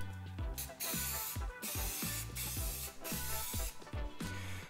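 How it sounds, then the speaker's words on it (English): Spray paint hissing onto a home-built adjustable climbing wall, in repeated bursts with short gaps and mechanical clicks between them, close and loud, no talk. "we decided we want to spray paint it and give it a protective coating"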